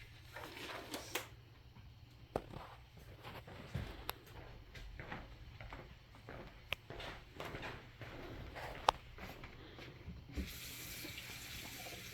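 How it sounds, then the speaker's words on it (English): Water runs from a sink tap in a nursing skills setting, a steady faint stream with irregular splashes and clicks as something is held under it, ending in a louder full flow. "I need to place this under warm water really fast"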